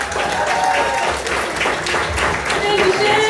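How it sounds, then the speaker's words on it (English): A comedy-club crowd breaks into loud applause for comedian Leslie Lynn as she takes the stage, a brief burst of clapping with voices mixed in. "I want you to give a big round of applause for Leslie Lynn."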